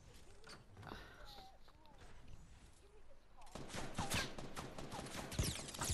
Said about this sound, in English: Shooting behind you.